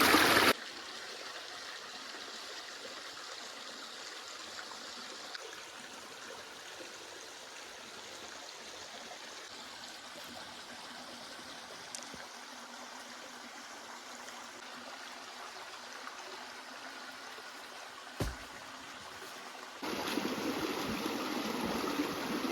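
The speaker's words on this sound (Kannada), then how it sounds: "ಇದು ನದಿ, ಈ ನೀರು ಹಿಂಗೆ ಹರ್ಕೊಂಡು ಹೋಗ್ತಾ ಇದೆ" River water flowing steadily at a campsite in the Uttara Kannada forest, a continuous broadband rush close by that holds level throughout and swells slightly louder near the end.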